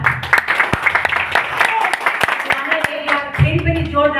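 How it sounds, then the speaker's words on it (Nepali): Audience clapping at a business seminar, a dense round of applause running throughout with a few sharp, louder claps standing out and voices mixed in over it. "फेरि पनि जोरदार तालीले सम्मान गरौँ।"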